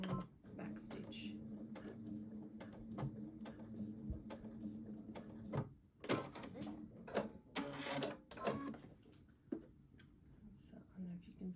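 A home sewing machine runs in short bursts, stitching forward and back-stitching fabric, with a quick mechanical chatter of needle strokes that stops and restarts, quiet and close with brief pauses.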